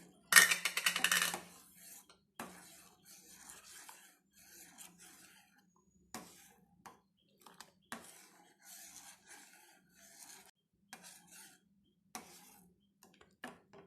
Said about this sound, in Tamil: சேர்த்து நல்லா கலந்து விட்டுறேன்